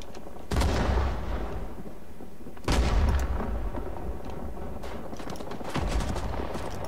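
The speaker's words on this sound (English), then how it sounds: "As you can see, they bombing us as soon as we hit the streets." Heavy bombing and artillery fire in Rising Storm 2: Vietnam, three big booming impacts spaced a couple of seconds apart over a constant rattle of distant gunfire.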